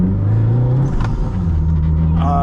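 A 400hp turbocharged Toyota MR2 engine pulls hard from inside the cabin, a loud, steady droning growl with a rising tone and faint turbo whine near the end.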